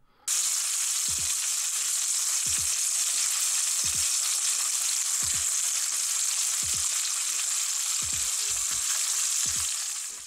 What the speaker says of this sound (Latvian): Kamēr steiks gatavojās, pārgriezu vienu ķiploku un pievienoju to cepšanās procesā.